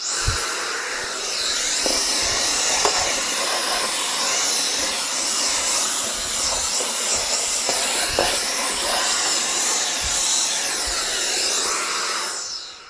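A small cordless electric air duster, used as a vacuum, whirs with a steady high-pitched hiss, its tone shifting slightly as it moves across the floor, then cuts off at the end.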